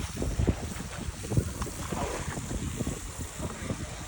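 Wind blows across a rooftop, buffeting the microphone with a continuous low rumble and gusty roar that rises and falls in irregular surges.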